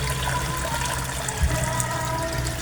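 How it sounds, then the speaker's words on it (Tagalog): A submersible pump runs in a backyard koi fish pond, a continuous close wash of churning, splashing water with a low hum underneath, no talking. "Ang submersible pump ko guys, oh."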